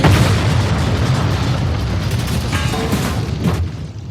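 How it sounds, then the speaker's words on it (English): A large, loud explosion from the film Magnum Force rumbles as a sustained, roaring blast that slowly fades, with a few sharper pops near the end. "There's that great line at the end after Hal Holbrook blows up in Magnum Force."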